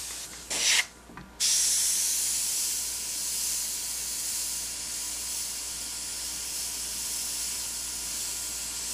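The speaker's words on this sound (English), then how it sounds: "I'm gonna cut back with the reduced white that we had earlier." An airbrush gun sprays reduced white paint onto a black shirt, giving a close, steady, soft hiss that runs almost unbroken after two short bursts at the start.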